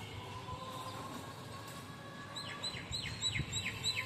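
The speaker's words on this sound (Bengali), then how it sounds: "পাখির ডাক, গাড়ির আওয়াজ" Birds call outdoors on a sunny morning, a run of faint, quick repeated chirps in the second half over a soft, steady background hum.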